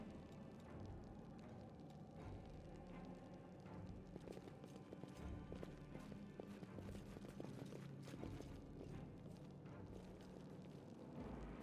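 Horse hooves clip-clop in the fantasy role-playing game Pathfinder: Wrath of the Righteous, a faint, busy run of hoofbeats mixed with low rumbling game ambience, steady across the whole stretch without talk.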